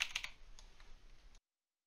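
Keys clatter on a computer keyboard in a quick, soft burst of several taps that fades into silence after about a second.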